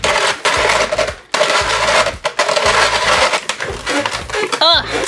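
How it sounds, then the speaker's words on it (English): A snow cone maker grinds pretzel sticks in loud, rough crushing bursts, a steady churning roar broken by brief pauses, with a short voice near the end. "And it's time to start grinding."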